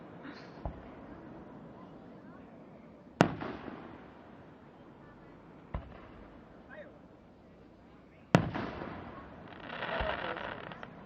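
Fireworks go off at Lime Rock race track: a few sharp distant bangs spaced seconds apart, one louder crack followed by a crackling rumble, heard outdoors with people chatting quietly nearby.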